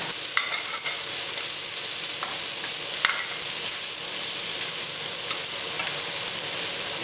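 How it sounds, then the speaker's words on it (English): Asparagus, Chinese mushroom and fungus stir-fried in a pan give a steady, close sizzle, with occasional light scraping strokes and clicks of stirring throughout and no talking. "Now we fry the vegetable"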